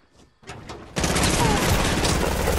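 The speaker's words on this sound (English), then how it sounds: "Shooting through wall" Rapid gunfire from Fortnite, fired through a wall in the game, erupts as a loud, dense burst after a few softer shots, sustained to the end with a faint voice underneath.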